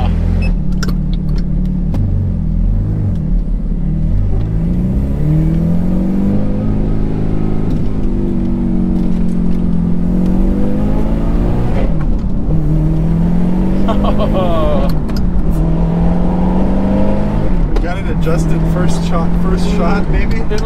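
A Ferrari F430 converted to a manual gearbox accelerates on a first drive, its engine note rising and falling through repeated gear changes, loud and continuous from inside the car.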